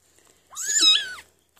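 A young kitten only a few weeks old gives a single clear, close meow lasting about half a second, high and slightly rising then falling, alone in a quiet room.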